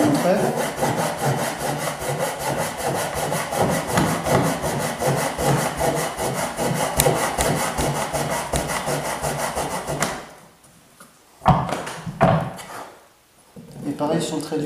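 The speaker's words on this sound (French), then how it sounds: "Donc là, pour couper droit, je viens ici descendre directement le long d'entrée" A hand saw cuts wood for a tenon joint in a furniture leg, with close, rhythmic back-and-forth strokes for about ten seconds before stopping, followed by a couple of light knocks.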